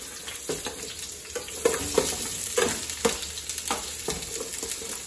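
Onion and garlic fry in hot oil, a close, bright crackling sizzle broken by repeated stirring scrapes at an uneven rhythm, with no talking.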